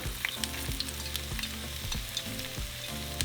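Anaheim pepper and onion sautéing in hot olive oil for beef and cheese chimichangas, a steady close sizzle with light crackle and soft spoon scrapes against the pan, no voices.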